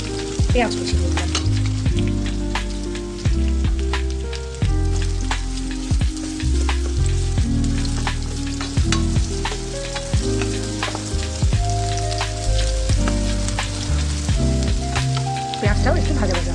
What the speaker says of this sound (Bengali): পেঁয়াজটাও একটু ভাজা ভাজা হবে।